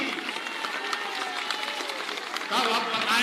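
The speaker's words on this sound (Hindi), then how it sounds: "बजा लो ताली।" Rally audience in Bihar clapping and cheering in a continuous, dense burst of applause that swells louder toward the end, heard from within the crowd.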